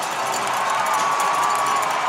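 An ice hockey arena crowd roars in a dense, steady wash of cheering after a fight between two players, loud and unbroken for a couple of seconds.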